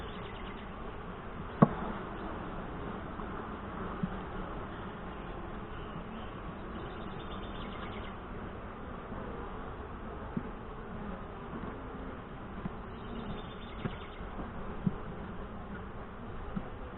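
Saskatraz honey bees in a Northwest Wisconsin hive drone in a steady, dense buzz, with a few faint clicks and knocks scattered through.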